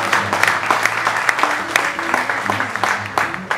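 A wedding congregation breaks into steady applause, dense rapid clapping filling the room at moderate loudness, with a faint voice or two underneath.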